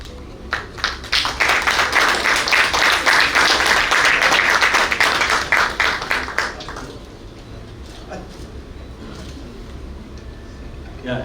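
Audience at a maritime symposium bursts into dense, sustained applause for about six seconds, then it thins to scattered claps in a quieter hall.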